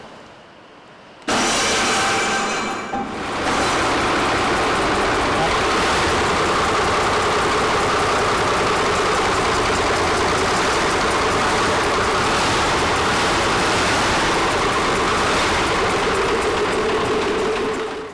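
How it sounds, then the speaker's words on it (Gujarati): A diesel engine, just bled of air in its fuel line, cranks and catches, then runs continuously with a loud, steady rumbling clatter after a brief quiet start. "એન્જિનને સ્ટાર્ટ કરી એન્જિનના પરફોર્મન્સને ચેક કરવાનું"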